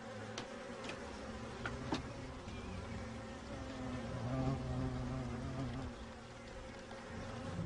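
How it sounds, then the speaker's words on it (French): Hornets and honeybees buzz around a beehive, a dense, continuous, close swarm hum with individual insects whining past the microphone, no talk. "Les frelons sont d'effrayants voisins qui terrorisent la colonie d'abeilles jusqu'à la fin de l'été"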